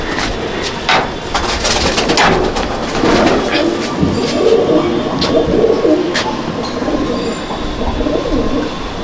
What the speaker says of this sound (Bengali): এটাও একটা বাচ্চা পায়রা, 7-8 করে চটিয়াল